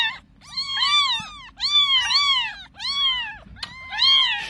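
Several kittens meow in high, insistent overlapping cries, close by and loud, in rapid bursts with brief pauses.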